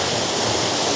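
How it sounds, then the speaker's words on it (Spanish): A small waterfall in an autumn forest gives a steady, dense rushing roar, close and loud, with no break across the short moment. "aquí hay un salto de agua, ¿lo veis? Pero que baja un poquito"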